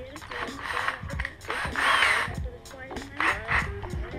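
A power drill bores a hole through an LS engine cover, whirring in several close, loud bursts separated by brief pauses.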